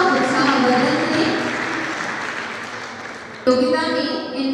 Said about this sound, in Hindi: तालियों के साथ इन विद्यार्थियों का उत्साहवर्धन करें।